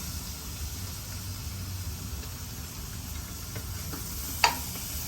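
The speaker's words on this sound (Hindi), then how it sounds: "ये मैं अपने अनियंस को सौते कर रही हूँ" Chopped onions sauté in melted butter in a pan, giving a soft, steady sizzle with one sharp utensil clink near the end and no talking.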